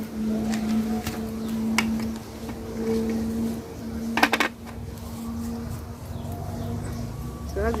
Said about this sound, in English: Then I'll drop in the cloves as well.